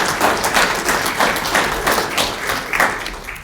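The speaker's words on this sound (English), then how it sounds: "Let's give him a round of applause." Audience at a State of Maplewood 2025 civic address applauds with steady, moderately loud clapping from many hands, sustained throughout without voices.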